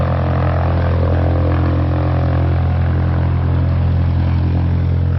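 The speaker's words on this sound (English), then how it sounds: "Cars and airplanes." A loud, constant engine drone from a nearby propeller plane fills the air, mixed with the rumble of passing traffic.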